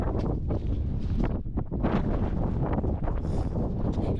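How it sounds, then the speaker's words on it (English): Strong gusting wind buffeting the microphone on Kinder Scout in the Peak District, loud rumbling bursts that rise and dip irregularly with no voices. "It's getting a wee bit windy."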